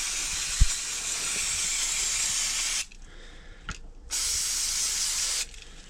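An aerosol can of carb and EGR cleaner sprays in two loud close hissing bursts, with a brief pause and clicks between them, while working on a boat engine.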